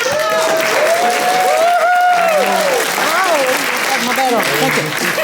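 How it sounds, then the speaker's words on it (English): A crowd at a Master Gardeners membership meeting breaks into steady applause, dense clapping filling the whole stretch, with voices talking and calling out over it throughout. "round of applause"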